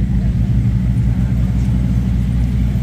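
Supercars including a McLaren and a Ferrari SF90 rolling past in a Monaco street parade, a steady low engine rumble and drone filling the clip, fairly loud.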